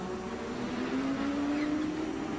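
A race car at the 1991 Palm Beach Grand Prix passes with a steady engine drone that rises gently in pitch, heard from a distance over a constant wash of circuit noise, without speech.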